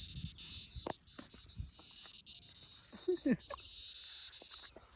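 A cricket chirps steadily as a high, continuous shrill drone throughout, with people talking and moving nearby over it outdoors on a farm.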